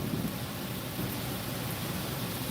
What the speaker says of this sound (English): a good thunderstorm like this